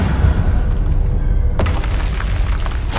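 A Bombarda spell explosion from the Hogwarts Legacy video game: a steady, loud rumbling roar with a sharp burst of crackle partway through, then a dense low boom continuing to the end.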